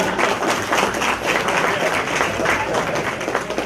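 An audience at a senior center Christmas luncheon claps, a dense, steady patter of many hands filling the room at moderate loudness, with some voices mixed in.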